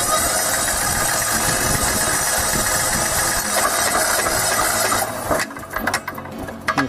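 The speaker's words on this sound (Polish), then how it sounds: "No już silnik nam skoczył" A Kipor 186F diesel generator engine runs with a loud, dense knocking clatter during repair work, then cuts off abruptly near the end, leaving sputtering and mechanical clicks.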